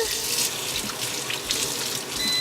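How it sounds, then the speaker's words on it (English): Hot water runs steadily from a kitchen tap into a sink, a continuous close hiss and splash at moderate volume with a faint voice underneath. "we got the hot water running"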